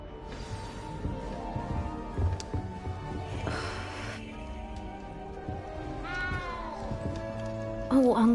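A cat meows in the video game Hogwarts Legacy, a short rising cry near the end that sits among game music and effects, with voices talking earlier.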